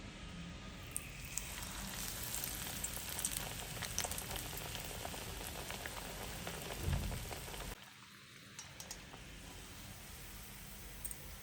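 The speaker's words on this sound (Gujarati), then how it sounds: "તો આપણું તેલ ગરમ થઈ ગયું છે તો આપણે મગની પેસ્ટ લગાવી છે તે બાજુ આપણે તળી લઈશું" A steady, fine crackling sizzle of bread coated with moong dal paste frying in hot oil runs throughout at low volume, briefly dipping partway through.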